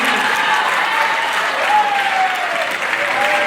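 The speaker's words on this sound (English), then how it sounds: "A lot of applause." Loud, sustained applause from a crowd at a university entrepreneurship orientation, dense clapping throughout with faint voices rising under it.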